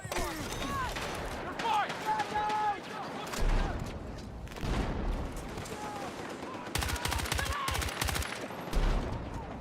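Burst gunfire rattles in the Battlefield 6 video game, with repeated quick volleys of shots and sharp cracks mixed with other battlefield noise and clatter, moderately loud throughout.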